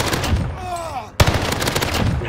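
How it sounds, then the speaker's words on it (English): Gunfire in Call of Duty: Warzone (Vanguard era, Rebirth Island), a dense rapid volley of shots with one sharp close crack partway through, loud and continuous alongside game sounds. "I'm taking fire!"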